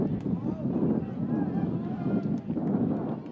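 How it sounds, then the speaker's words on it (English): Wind buffets the outdoor crowd microphones at a college football game, a steady rumbling whoosh with gusty swells and no clear voices. "that breeze is picked up out of the south now, as you can hear on our crowd mics outside"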